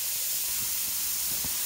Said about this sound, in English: have some steam coming out of this valve right here